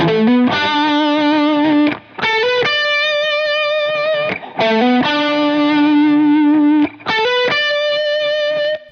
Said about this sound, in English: For Mike's part, I've gone for the Friedman BEOD.